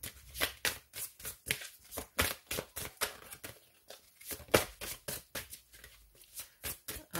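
A new deck of oracle cards is shuffled up close, producing a quick rhythmic series of crisp riffling slaps, about two per second, steady and loud, with no talking.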